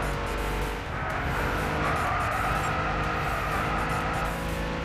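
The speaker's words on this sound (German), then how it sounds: "Wirklich geniales Auto. Wirklich kein Fehlkauf gewesen, aber gut. Es ist ein Audi." Audi race car in the Gran Turismo 6 game on PS3, its engine droning steadily and loudly throughout with a hint of tire noise, close and continuous with no talk.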